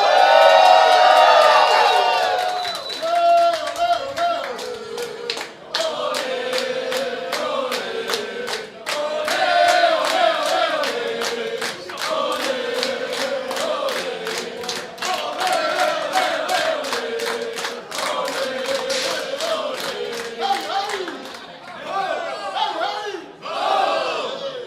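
Large live crowd at a robot fighting competition final between New Zealand and Brazil roaring and cheering loudly and continuously, with whoops and shouts swelling in bursts throughout.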